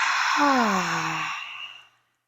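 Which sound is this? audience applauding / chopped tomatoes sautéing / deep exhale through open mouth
deep exhale through open mouth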